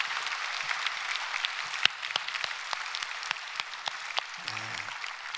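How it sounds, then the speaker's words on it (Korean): A church congregation claps at a Sunday worship service, a steady patter of moderate applause from a room of people with a few sharper individual claps standing out. "다시 한번 박수로 격려해 주시겠습니다."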